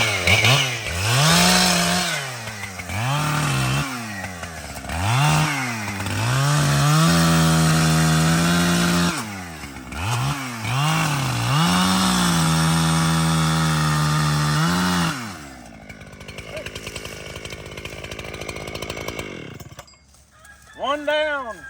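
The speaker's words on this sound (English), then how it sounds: "We've got to get the chainsaw, we've got to cut them up." Chainsaw cutting down Bradford pear trees, engine revving up and down in repeated loud cuts, then a sustained high whine before dropping to a rough idle, close and dominant.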